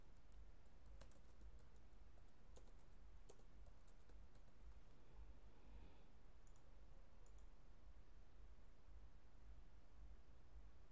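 Someone is typing an email on a computer keyboard, with faint, scattered key clicks that sit low under a steady background hiss throughout.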